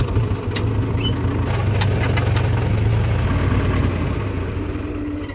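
A loaded farm tractor's engine runs steadily close by in the evening, a continuous low, throbbing drone at even loudness with faint higher clatter on top and no voices.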